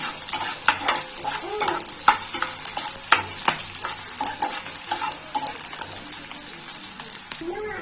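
Amaranth greens fry in spluttering oil, producing a loud, continuous close-up sizzle punctuated by repeated spatula scrapes and pops, with people talking over the cooking.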